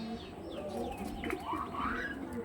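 A pair of pigeons coos softly and steadily up close, with low, murmuring calls rising and falling over faint background rustle.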